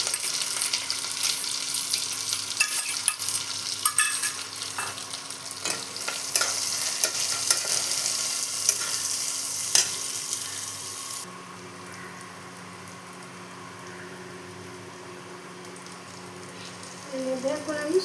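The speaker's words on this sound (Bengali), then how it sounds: "দিয়ে এগুলোকে ভালো মতো ভেজে নিতে হবে।" Garlic, slit green chilies and a large chopped onion frying in a pan, with a steady sizzle and stirring scrapes for about ten seconds before the frying quiets to a soft hiss.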